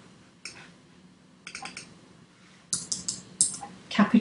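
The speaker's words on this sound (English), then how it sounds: "I'm going to type a capital I" Quiet keystrokes on a computer keyboard come in short clusters separated by pauses, growing louder and more rapid toward the end.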